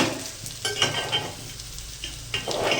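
Sliced okra frying in a pan at home, a steady close sizzle with a few stirring scrapes and clinks.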